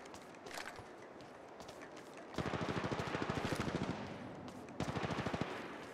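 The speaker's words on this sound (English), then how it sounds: "Opening fire." Automatic weapon fire in the Apex Legends video game: two rapid bursts of evenly spaced shots, loud and close, separated by quieter game ambience.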